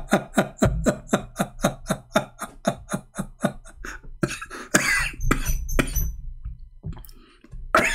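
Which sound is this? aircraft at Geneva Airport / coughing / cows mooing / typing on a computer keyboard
coughing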